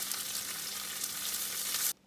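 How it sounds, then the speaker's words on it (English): Tofu fries in a pan with a steady, bright sizzle that holds even and fairly soft for about two seconds before stopping abruptly. "I'm also frying some tofu"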